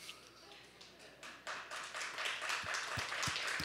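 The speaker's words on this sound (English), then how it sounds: "Clap." Church congregation clapping in worship, starting sparse and growing into fuller rhythmic clapping with a few sharp claps near the end, while voices carry on faintly underneath.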